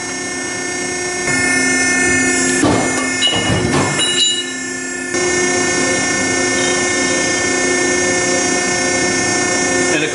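A Piranha ironworker shears through 1/4 inch steel angle in a workshop, giving a short loud burst of crunching metal over the machine's steady hum.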